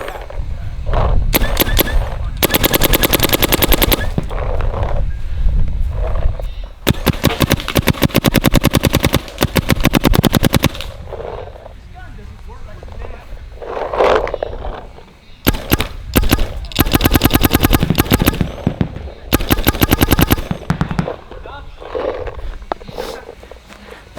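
A Macdev XDR paintball marker on an electronic frame fires several loud, rapid bursts of shots separated by short pauses, with some background noise between the strings.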